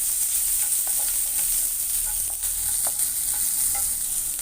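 Onions sautéing in hot oil with popped mustard seeds for a dry spicy corn mix: a steady, close sizzle with scattered crackles and the occasional scrape of a stirring spoon, and no voices.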